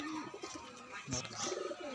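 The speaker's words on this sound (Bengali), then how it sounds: "একদম হাই কোয়ালিটির পায়রা আছে" Racing pigeons coo softly in short throaty bursts, heard amid a busy background with some faint voices.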